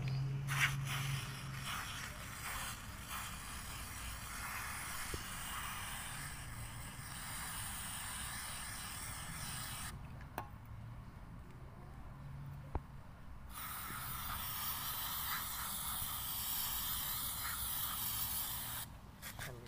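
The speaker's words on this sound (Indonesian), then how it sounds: "Nah, kita semprot lagi nih" Cleaner sprays in a long continuous hiss over a Toyota Etios taxi engine, close and steady, cutting off briefly partway through before resuming.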